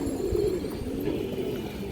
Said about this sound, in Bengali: এই যে দেখেন দর্শক কবুতরটা